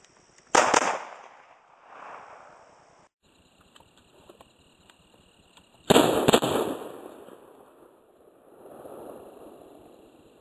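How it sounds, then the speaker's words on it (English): A 1911 pistol fires two shots several seconds apart. Each report is a loud, sharp blast with a short ringing tail, with quiet handling noise between them and no talking. "I'm going to have to draw the gun, I'm going to have to put the safety off before I fire"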